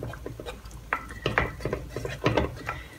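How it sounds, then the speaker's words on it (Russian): Spoon scraping and clinking around a pot while a chocolate mixture for homemade Nutella is stirred quickly to break up lumps, with irregular close metallic taps and scrapes and no talking. "Размешиваем все комки"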